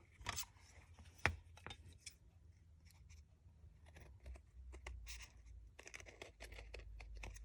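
Scissors snip through a paper pattern for a bunny candy holder treat box in a series of short, close, quiet cuts and rustles, with small gaps between bursts.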